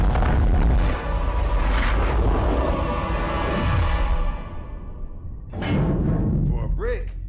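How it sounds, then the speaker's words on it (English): Deep rumbling booms and blasts in a Halo game roll on one after another, loud and heavy, fading into quieter wind before sharp bursts return near the end; voices are heard. "Master Chief flying through space and explosions to return the Covenant bomb to their ship"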